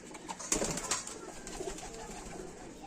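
Kept flying pigeons give soft, muffled coos nearby, partly covered by a couple of sharp clicks and rustling near the start.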